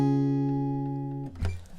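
A C barre chord on guitar with a capo rings out sustained, then a sharp slap-like muted hit near the end, close and clear with no talking.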